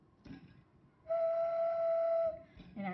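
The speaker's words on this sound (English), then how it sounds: "And I have a whistle." A handmade clay whistle blown once in a steady, loud tone of about a second and a half, bright and slightly breathy, with quieter handling noise before and after.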